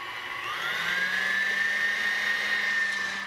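An electric mixer revs up to high speed while whipping meringue for coconut meringues, giving a loud whirring motor whine that climbs in pitch and then holds steady for a few seconds with no talking.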